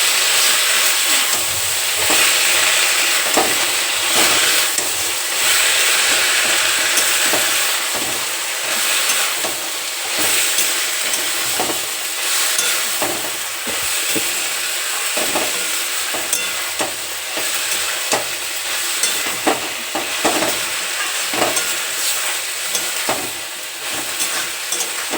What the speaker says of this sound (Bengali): এবার মোচাগুলো দিয়ে দিচ্ছি, এটাকে একটু ভালো করে কষিয়ে নেবো।